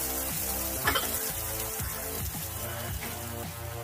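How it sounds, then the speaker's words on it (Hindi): Onions fry in a pan over a medium flame, giving a steady close sizzle and crackle with faint stirring clinks under a droning background tone. No one talks. "प्याज को हमें 5 मिनट तक मीडियम फ्लेम पे भूनना है।"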